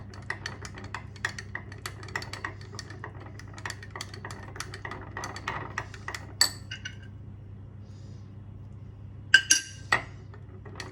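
Baby macaw food formula being stirred in a container, giving light clinks and taps of a utensil against the sides in an irregular rhythm, close by and fairly quiet over a low background hum.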